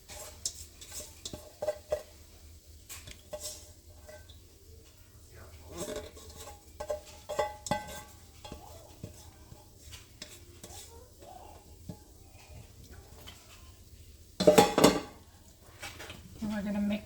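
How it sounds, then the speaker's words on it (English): Rice and quinoa stirred in a pan, scattered spoon scrapes and clinks against the metal with a louder clatter near the end, over a soft sizzle, with speech around. "we're going to mix some quinoa in with that"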